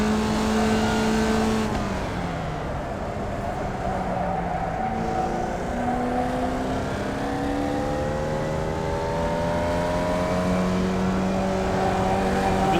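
Formula Vee race car in the iRacing sim at Tsukuba Circuit, its engine droning steadily and sweeping up and down through gears, with several overlapping cars' engines rising in pitch, loud and continuous with no talk.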